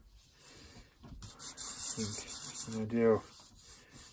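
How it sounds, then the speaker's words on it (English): A sanding block rubs over a teal-painted wooden surface with a dry, scratchy hiss that builds in the second half while a person talks over it. "use a sanding block on this teal because we're actually going to do the whole thing"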